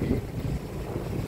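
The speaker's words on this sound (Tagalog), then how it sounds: "Malakas pa rin po ang hangin sa kasalukuyan" Strong typhoon wind roars and buffets the microphone in a constant, rough low rush, with no other sounds standing out.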